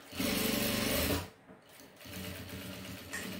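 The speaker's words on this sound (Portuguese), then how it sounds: "E aí, é só vir, ó, e passar a costura." A sewing machine stitches a seam on bias binding: a loud, close, rapid mechanical whir that runs for about a second, stops briefly, then resumes more softly at a steady pace.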